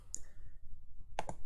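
Mouse clicks selecting a move in a Pokemon video game: one faint click near the start, then a closer double click about a second later, sharp and brief against a quiet background.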